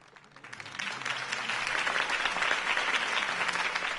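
A crowd applauds a campaign speech by Harvey Dent in the Batman Telltale Series game, the clapping swelling from a quiet start into a steady, dense roar that holds to the end, with a faint low voice murmuring beneath.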